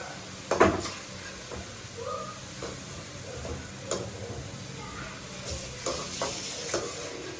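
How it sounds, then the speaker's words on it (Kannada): Tomato goes into vegetables frying in a pan: a steady soft sizzle runs throughout, broken by scattered clicks and scrapes of stirring and utensils, fairly quiet and close. "ಟೊಮೆಟೊ ಹಾಕ್ಬಿಡಪ್ಪ ಲಾಸ್ಟಿಗೆ ಟೊಮೊಟೊ ಆ್ಯಡ್ ಮಾಡ್ತಾ ಇದ್ದೀವಿ"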